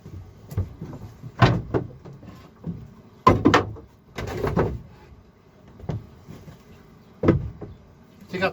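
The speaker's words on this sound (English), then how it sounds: "Take out the staircase." Taking apart the wooden staircase on a 50-year-old sailboat to reach the engine produces scattered wooden knocks, clunks and sliding scrapes, a few louder thumps standing out over a quiet cabin.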